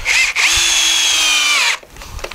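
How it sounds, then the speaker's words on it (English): A power drill driving screws into a live edge wooden picnic table during assembly: a brief burst then a sustained high motor whine that rises under load for over a second, loud and close, ending with light handling knocks. "And then we'll shoot a couple screws in this way."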